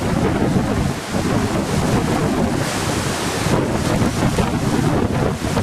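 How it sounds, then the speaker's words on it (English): Strong gusting wind from Hurricane Dolly roars loudly and continuously, buffeting the microphone with heavy rumbling noise that swells and dips from moment to moment. "Winds are crazy, but not bad."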